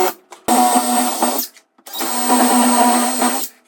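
A power drill bores pilot holes into a wooden wall stud while a large TV wall mount is being installed, in two loud, close bursts separated by a short pause.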